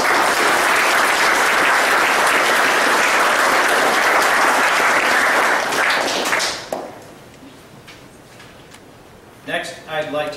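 An audience at an Eagle Scout court of honor applauds loudly and steadily for several seconds, then the clapping fades out, and a few scattered claps follow near the end.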